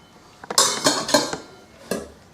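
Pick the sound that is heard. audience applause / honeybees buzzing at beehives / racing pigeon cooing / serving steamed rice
serving steamed rice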